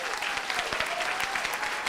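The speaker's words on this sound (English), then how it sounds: "And firstly, I would like a big applause for Maria for this." Audience applause at a council general assembly, dense steady clapping filling the room, fairly close and even in loudness, with faint voices underneath.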